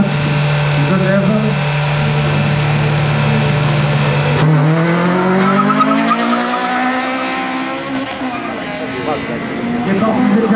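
Race cars run a track at the Satigny run in Geneva, among them a Pontiac Trans Am, a Ford V6 Turbo and a Mazda, with a loud sustained engine drone rising and falling in pitch under continuous announcer talk.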